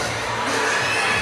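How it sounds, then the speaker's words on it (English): A good-sized opening day crowd fills an indoor volleyball arena at Rizal Memorial Coliseum, a steady broadband roar of many voices and cheering sustained loudly throughout the short moment. "Good-sized opening day crowd."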